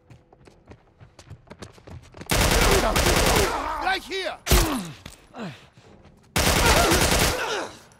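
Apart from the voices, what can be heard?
gunfire in a video game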